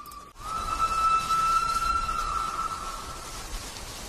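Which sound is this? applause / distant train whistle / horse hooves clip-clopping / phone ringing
distant train whistle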